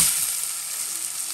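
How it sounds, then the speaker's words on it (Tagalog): Barramundi fish fries in oil with garlic, giving a close, steady crackling sizzle with bright hissy texture throughout and no talking. "Lagyan mo ng mantika. Lagyan mo ng bawang. Tapos, lagay mo yung isda."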